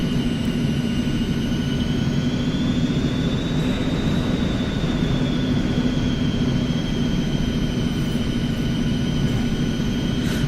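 Airliner jet engines spool up in the X-Plane 11 flight simulator as throttles advance, a steady loud roar and whine with a slowly rising high pitch, continuous and close throughout.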